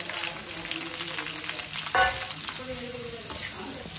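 Chopped small and large onions with green chilies fry in hot oil, giving a dense, continuous close sizzle with a brief louder clatter midway and no voices.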